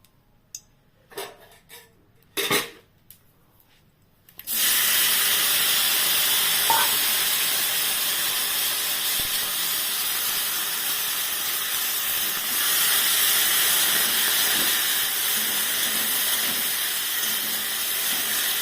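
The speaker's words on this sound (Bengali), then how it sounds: "এই তেলের মধ্যে আমি এবার চিংড়ি মাছটা দিয়ে ভাজবো" Dried shrimp dropped into hot oil burst into a loud, steady sizzle that runs continuously after a few brief clattering handling sounds.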